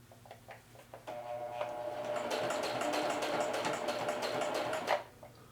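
Sewing machine running a zigzag bar tack on a pocket, with one millimeter stitch length and width: after a few light ticks, a steady rapid mechanical whirring runs for about four seconds close by, then stops.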